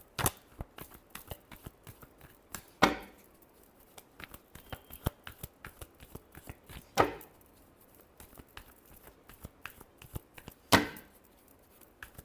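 Tarot cards are handled and shuffled at close range, with soft riffling and flicking broken by three louder slaps of the deck at regular intervals, and no talk.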